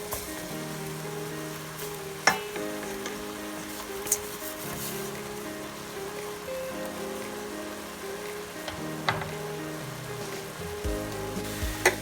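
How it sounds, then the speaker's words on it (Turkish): Flour roasting in oil in a pot for creamy mushroom soup, a steady close sizzle and crackle with a few sharp stirring knocks scattered throughout. "unun kokusu çıkana kadar kavuracağız tabi"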